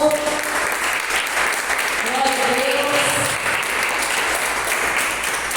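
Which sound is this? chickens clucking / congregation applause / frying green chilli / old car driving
congregation applause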